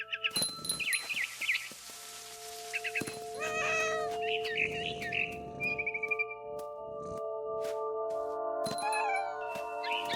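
A cat meows repeatedly in the video game What Remains of Edith Finch, several drawn-out wavering meows and yowls close up over a steady droning musical score, with scattered bird-like chirps.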